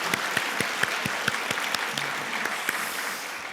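A church congregation at a worship service claps together in a steady, rhythmic beat, the sharp claps sounding moderately loud and filling the room for several seconds with no talking.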